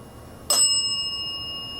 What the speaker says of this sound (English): Are you able to ring the bell to just the woman